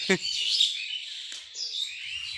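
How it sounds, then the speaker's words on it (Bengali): Small birds chirp and twitter in a banyan tree in a village, with a few quick high calls heard fairly close and clear against a quiet background. "পাখিগুলো খালি কিচির মিচির করেই এই ফলগুলো খায়"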